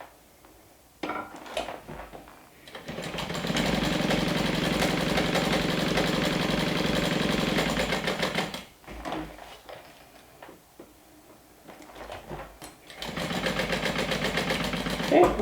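Sewing machine stitching a bag strap runs in two long, steady motorized bursts separated by pauses, close and fairly loud, with a short stop-start run between them.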